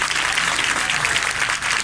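A church congregation claps together in a dense, continuous burst of applause that is loud and sustained across the whole moment, with no break.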